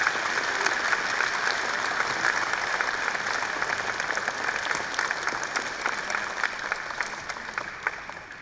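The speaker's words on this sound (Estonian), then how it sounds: "No veel korra üks aplaus." Steady applause from a school assembly crowd at a gymnasium jubilee ceremony, continuous clapping from many hands filling the hall at an even level throughout, with no voices over it.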